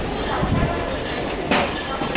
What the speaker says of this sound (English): So the train has just arrived on the station.